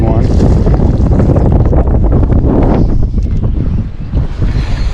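Wind buffets the microphone on a fishing boat during a spring jigging trip, loud and gusty, with water and hull noise and some talk mixed in, easing slightly toward the end.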